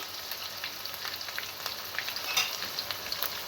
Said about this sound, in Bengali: আমি মশলাটাকে এখন কষিয়ে নেব